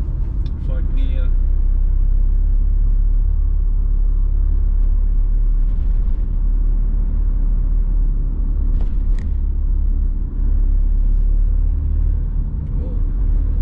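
Steady, loud engine rumble from a 2025 Nissan Navara VE with manual transmission, heard from inside the cab while driving in gear, with road noise throughout and someone speaking over it.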